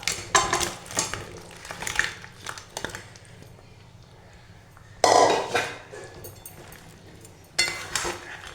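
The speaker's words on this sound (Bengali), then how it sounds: "এবার এর মধ্যে আমি আস্তে আস্তে মাছগুলো ছেড়ে দেব।" Prawns slipping into a pan of coconut-milk malai curry, with clinks of a metal spoon against the pan and two short bursts of bubbling and sizzling, close and fairly quiet.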